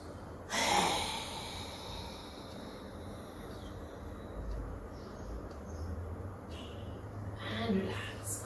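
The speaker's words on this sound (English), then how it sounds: "As I inhale from my nose, and when I exhale, my tongue will come out and my eyes will go up." Yoga breathing exercise: a sharp nasal inhale followed by a forceful, breathy exhale with the tongue out, heard close and fairly quiet, with a second breathy burst near the end.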